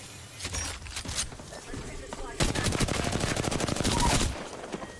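Gunfire from the video game Apex Legends: a few scattered shots open, then a long rapid automatic burst rattles loudly for about two seconds before dying away, with a voice faintly present.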